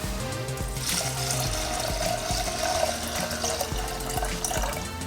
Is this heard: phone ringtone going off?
no